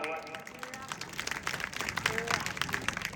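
A crowd at a wrestling (kusti) match claps in a steady, building patter of applause, with a voice talking over it throughout.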